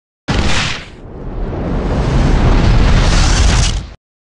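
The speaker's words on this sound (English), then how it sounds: "The building should collapse inwards in a few seconds." A building implosion brought down with explosives: a sudden loud blast followed by a long, roaring rumble of collapse that swells and holds for about three seconds before cutting off, with no talk.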